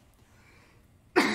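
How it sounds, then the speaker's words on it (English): A single short cough bursts out at the very end after near silence. "The coughing starts"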